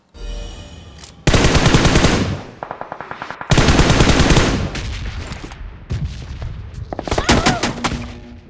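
Rapid automatic gunfire bursts in a mobile battle royale game, loud close volleys alternating with shorter single shots and quieter gaps, some distant shots mixed in.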